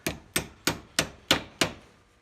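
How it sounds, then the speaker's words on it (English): A heavy hammer gently taps a part down during a 2007 Buick Terraza handicap lift gate motor repair: six evenly spaced, close metallic knocks, each with a short ringing decay, with no talking. "I'm using a heavy hammer there, but it's just a very small amount."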